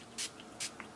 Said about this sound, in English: I'm going to take alcohol and spray it over the top.